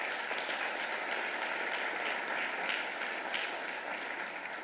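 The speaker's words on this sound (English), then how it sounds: "And this applause is for you, for your hard work." Sustained applause from an audience at a mayor's State of the City address, steady and full throughout with no voices over it.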